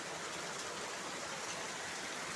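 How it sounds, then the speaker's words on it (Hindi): A steady, dense wash of heavy rainfall roars without a break, close and uniform, with no speech on top. "इतना तेज बारिश आ रहा है,"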